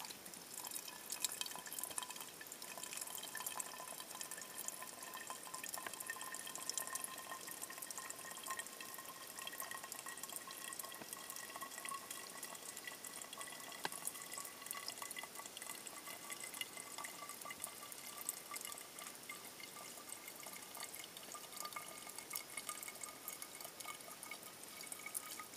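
Water squeezed through a Sawyer Mini filter into a drink jug at a shelter by a pond, a faint, steady trickle with soft drips running continuously and alone at low level.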